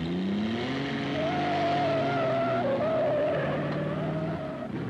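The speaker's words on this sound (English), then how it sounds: "motor cars took to the track at ever-increasing speeds" Racing cars of the 1930s speeding around the Brooklands track, engines roaring continuously with rising and shifting pitch and some tyre squeal, loud and close throughout with no voices.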